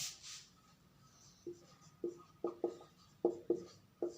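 Pen writing a letter on paper, a series of short scratchy strokes coming in irregular bursts, close and fairly quiet.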